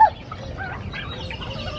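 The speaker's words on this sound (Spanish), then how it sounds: "Es una gallina." A hen clucks in short, close, soft repeated notes over a low rumbling background for a couple of seconds, with no speech.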